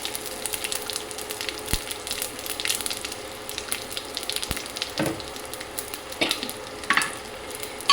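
Mustard seeds and green and red chillies frying in hot oil in a home kitchen, a soft steady crackle with scattered pops and occasional stirring clatter, close by with no talk.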